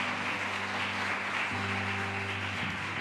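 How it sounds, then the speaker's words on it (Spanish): A church congregation applauds, a dense, steady wash of clapping throughout, with a sustained tonal hum underneath. "Dale un aplauso al Señor porque nos permite bendecir su casa."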